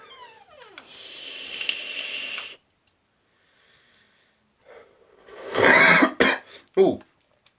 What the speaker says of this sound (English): first time coughing. I haven't coughed on a vape in a while